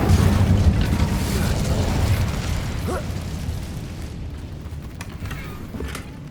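The Incendio fire spell is cast in Hogwarts Legacy, a loud, sustained roaring burst of flame that fills the scene and slowly eases off.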